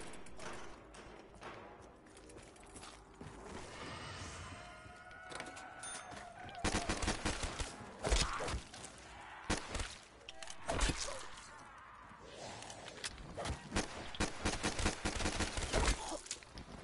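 Video game gunfire aimed at zombies, a run of sharp, loud shots in quick bursts following a quieter stretch, with no talk over the firing.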